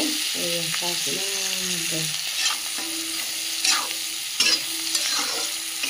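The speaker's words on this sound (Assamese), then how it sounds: "পিঁয়াজ, ৰচুন, জলকীয়া এইবিলাক একেবাৰে ভাজি আছোঁ এতিয়া" Onion, garlic and chili fry with pork in a pan, giving a steady sizzle with occasional stirring scrapes; a voice speaks briefly near the start over the frying.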